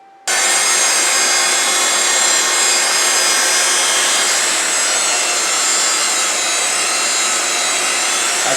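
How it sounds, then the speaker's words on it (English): Power sander working the inside of a handmade wooden clamshell box: after a brief quiet start, a loud, steady high-pitched whirring hiss of abrasive against wood runs continuously to the end, with no talk. "time to do a little power sanding on the inside"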